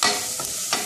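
Maggi noodles being stirred in a hot pan with curry-flavoured spice mix and turmeric, a brief close scrape and sizzle with two quick stirring strokes.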